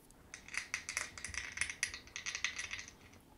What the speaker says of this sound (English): I also have some shaking dice sounds